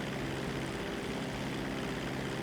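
Steady propeller drone of a seaplane engine in a video game, a continuous mid-level hum with a faint tonal whine, no voices.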